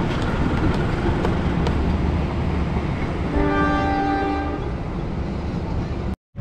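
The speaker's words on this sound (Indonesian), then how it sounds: "Komuter lain Garut melewati stasiun" A commuter train rumbles steadily past Ciroyom station in Bandung at close range, with a sustained horn sounding in the middle, before the noise cuts off abruptly.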